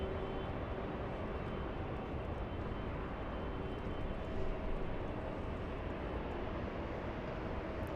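A Boeing 747-8 Intercontinental airliner at Los Angeles International Airport gives off a broad, continuous jet engine roar, steady and fairly loud throughout, with no voices.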